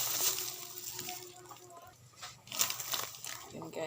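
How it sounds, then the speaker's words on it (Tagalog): Hot water pours onto cooked rice with a short splashing, sloshing rush and some crinkly handling noises. Voices carry faintly in the background. "nilagyan ko na ng mainit na tubig ang kanin"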